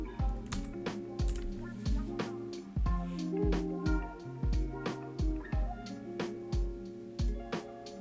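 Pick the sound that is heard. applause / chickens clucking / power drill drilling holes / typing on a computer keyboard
typing on a computer keyboard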